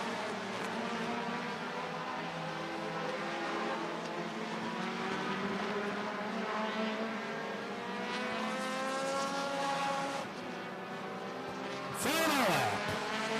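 Late model race cars circle Slinger Speedway in the closing laps of a heat race, a steady layered engine whine with rising and falling pitch as cars pass, and one sharp loud sweep near the end.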